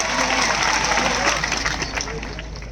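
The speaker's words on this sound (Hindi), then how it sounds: "इसलिए एक बार जोरदार तालियां आप सबके लिए" A crowd at a political party founding event in India breaks into sustained loud applause, dense clapping that holds steady and tapers slightly toward the end.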